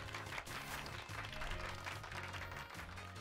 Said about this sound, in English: Give Pikachu a round of applause,